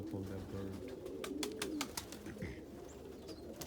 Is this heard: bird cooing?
yes